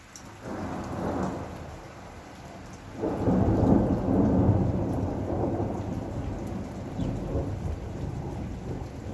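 Thunderstorm with steady rain falling and two rolling rumbles of thunder, the second longer and heavier, heard outdoors at a moderate distance with no voices.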